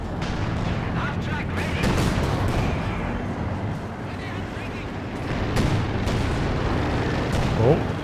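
A creeping artillery barrage in the video game Company of Heroes 2 rumbles on with dense, overlapping booms and blasts, loud and unbroken for the whole stretch.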